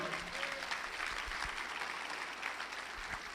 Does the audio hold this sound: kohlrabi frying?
no